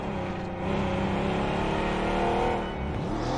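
A car engine drones steadily in the PUBG Mobile video game, holding a continuous mid-level hum with slight rises in revs as the vehicle drives along.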